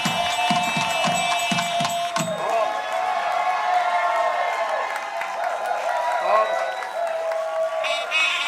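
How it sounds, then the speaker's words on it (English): Applause and cheering from a wedding audience, with drumming beats at the start, then sustained clapping and crowd noise that fills the scene with voices mixed in. "a big, big round of applause for Varun and Abby."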